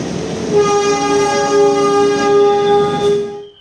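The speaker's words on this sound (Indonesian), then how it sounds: "dengan tibanya kita di stasiun tujuan akhir, yaitu stasiun Surabaya Pasar Turi, menggunakan kereta api Gumarang" The Gumarang train pulls into Surabaya Pasar Turi station with a loud, sustained horn blast over rumbling rail noise, fading at the end.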